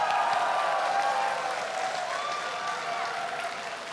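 Audience applause in the hall of a presidential debate, a steady wash of clapping heard with crowd noise and faint voices, fairly even in level throughout.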